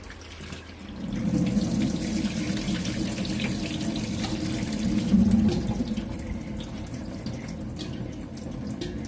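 Tap water runs steadily into a sink while salted cucumbers are rinsed and drained for cucumber kimchi, a continuous close splashing flow with no voices.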